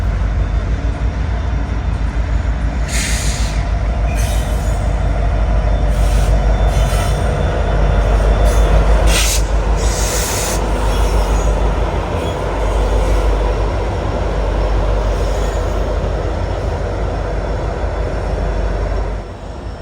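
A Norfolk Southern Lackawanna heritage unit train rolls past close by in Greenville, South Carolina, with a steady loud rumble and clatter of railcars and intermittent high wheel squeals throughout.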